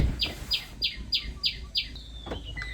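A bird chirps in a quick, evenly spaced series of six bright notes, then a few scattered calls follow over quiet background noise.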